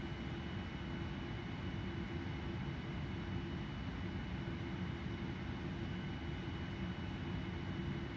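A simulated TUI Boeing 787-8 Dreamliner taxiing fast in Prepar3D v4, giving a low, steady engine rumble with a constant hum, heard quietly and evenly, without talk.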